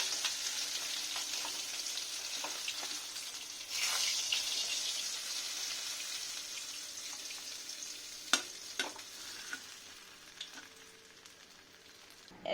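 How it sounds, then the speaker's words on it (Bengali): Pabda fish frying in a generous amount of hot oil, a close, continuous sizzle that swells midway and tapers off, with a few sharp clinks of a utensil near the end. "বেশি একটু কম তেলে ভাজতে পারতাম, কিন্তু মাছটা ভেঙে যাবে বলে একটু বেশি তেল দিয়েই ভাজলাম"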